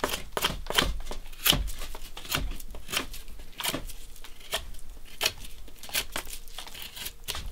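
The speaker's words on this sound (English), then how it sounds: "I'm just going to whittle me a fire stick here and cook some sausage" A knife whittles a wooden fire stick in a cabin, shavings dropping to the floor. Quick, dry scraping strokes repeat in an uneven rhythm, close and fairly soft.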